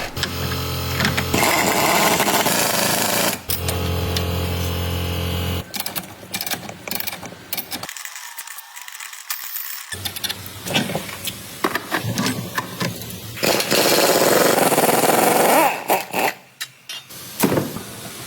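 A power tool whirs in short and longer bursts while removing the old strut mount from an Alfa Romeo, with mechanical clanks and pauses between runs, close by.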